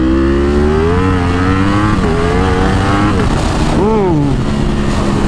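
A Ducati Superleggera V4 motorcycle engine revs hard with rising and falling pitch sweeps as the rear wheel spins in first gear. The sound is loud and close and runs continuously, with a rider's voice and an exclamation heard over it.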